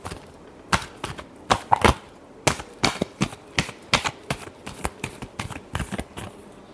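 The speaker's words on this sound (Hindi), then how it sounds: "last shuffle" Tarot cards being shuffled by hand in a rapid series of crisp riffling snaps, roughly a dozen quick bursts in an irregular rhythm, close and clear with no voice over them.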